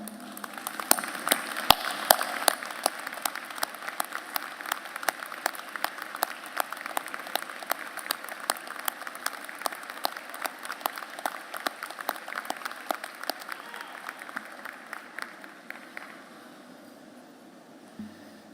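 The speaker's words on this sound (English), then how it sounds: "please stand so our graduates and all of us can give you a great round of applause." An audience at a university commencement ceremony gives a long round of applause, many hands clapping in a sustained, crisp patter that stays strong for some fifteen seconds before thinning out and fading near the end.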